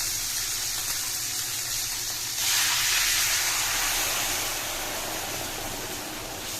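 A fish head drops into a hot pan of oil and sets off a steady hiss. The sizzling swells suddenly partway through and then settles into a softer, continuous crackle.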